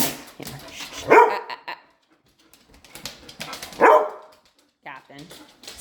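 A vocal dog barks in two loud bursts, each a cluster of close barks, separated by quieter stretches with a person talking nearby.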